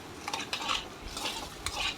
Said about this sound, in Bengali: দেখো আমি নাড়াচাড়া করছি পেঁয়াজগুলোকে লাল লাল করে ভাজা করার জন্য